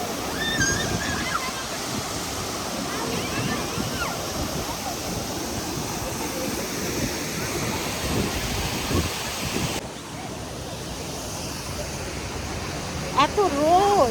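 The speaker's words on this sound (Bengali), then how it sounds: "এই ঝর্ণার পানিটা" A mountain waterfall pours down a hillside in a continuous, fairly close rushing wash, with people talking intermittently over the water and a brief change in tone partway through.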